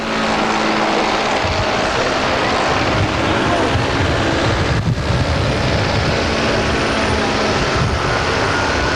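Model biplane engine droning steadily at a model aircraft meeting in Yverdon, Switzerland, a loud continuous propeller buzz close by with wind noise over the microphone.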